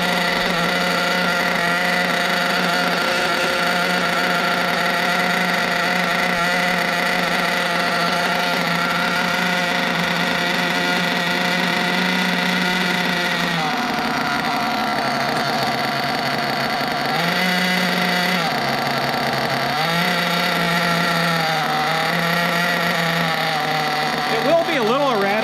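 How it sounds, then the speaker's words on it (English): A nitro RC engine idles during break-in, a close, loud, buzzing drone whose pitch wavers up and down as the idle settles, under steady talk throughout. "The first couple fires or first couple tanks, sometimes the idle will go up and down, and that'll kind of settle in usually."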